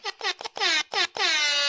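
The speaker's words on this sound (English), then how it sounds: "we'll give you a little air horn there" Air horn sound effect blasting in a rapid series of short honks followed by one long sustained blare, loud and close with no talking over it.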